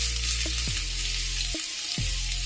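Onions frying in hot oil in a pan make a loud, continuous sizzling hiss, close and unbroken, with a few faint knocks and no voices.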